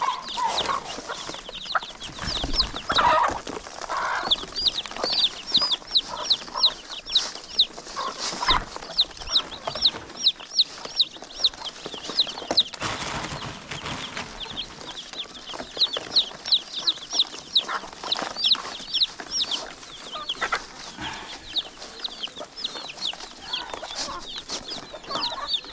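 Chickens on a home poultry farm in Africa clucking and chirping repeatedly, many birds close by in a busy, rhythmic chorus.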